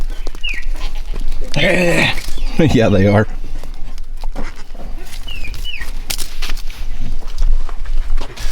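Goats in a farm pen, including a mother goat not fully recovered and her nursing kids, give a couple of loud wavering bleats early on amid farmyard rustle, with people talking nearby.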